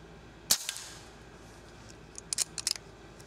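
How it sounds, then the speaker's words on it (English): An airgun fires at a can sitting on a liquid-filled container about 25 yards away: one sharp crack near the start, then a quick cluster of light metallic snaps and clicks, crisp and close with no talking. "I'm going to go for that can right on top of that liquid filled container."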